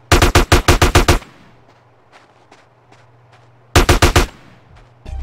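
Gunfire in GTA San Andreas: two loud bursts of rapid automatic shots, the first about a second long, then a quiet gap with faint steps and a low hum before the second burst.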